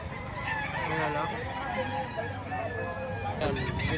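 Roosters crow amid the clucking of other fowl at a busy poultry market in Lipa, Batangas. The calls ring out close and repeat over a steady background of market bustle, with voices talking throughout.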